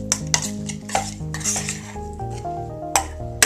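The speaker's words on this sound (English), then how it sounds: "And we're stirring that up." A mixture for potato skins is stirred in a bowl, with close metal-on-dish scraping and clinking in quick irregular strokes over steady background music and no speech.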